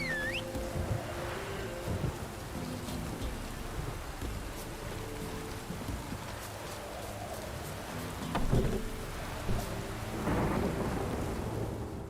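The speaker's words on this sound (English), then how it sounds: "Oh, it's drizzling." Rain drizzles in the video game The Witcher 3: Wild Hunt, a continuous hiss of falling rain with rolling rumbles of thunder and a louder crackle about two-thirds through.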